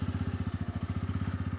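A 2024 Bajaj Pulsar N160 motorcycle engine idles close by with a steady, rapid thumping pulse, a low even putter that holds without revving.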